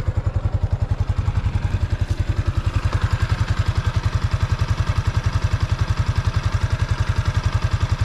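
A Yamaha Exciter 155 VVA motorcycle engine runs at a steady idle close by, with a fast even pulsing exhaust beat and a light mechanical clatter, heard alone.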